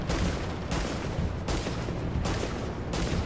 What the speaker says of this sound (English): two snipers shooting at each other.